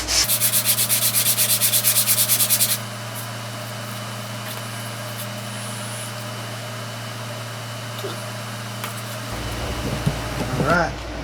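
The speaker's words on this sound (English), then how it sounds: "I'm going to run them a little bit of sandpaper, try to get them as smooth as possible." Sandpaper rubbed across a segmented tri-colored pen blank on a flat table, giving a loud rapid rhythmic scratching for the first few seconds, then giving way to a quieter steady hum with faint handling noises.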